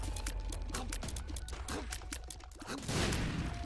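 Dense rapid popping bursts from enemies exploding in the video game The Binding of Isaac, a continuous crackling barrage with a louder burst near the end and faint voice underneath.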